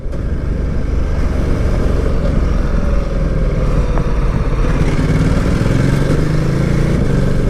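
2018 Ducati Multistrada 1260S out on a road ride, a steady loud rush of engine and wind from the rider's position, with the motor's drone shifting slightly toward the end and no talk.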